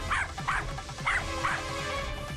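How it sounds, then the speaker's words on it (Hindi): A dog barks four times in quick, evenly spaced yips, close and fairly loud, with no one speaking. "अब भौंकना बंद कर।"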